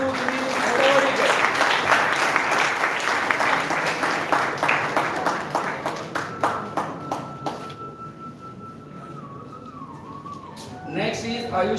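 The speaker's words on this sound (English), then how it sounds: "Give a big round of applause to Vineet Bhadavadekar." An audience at a school toppers' felicitation gives loud applause that thins into a few scattered claps, then dies away as a voice begins speaking at the end.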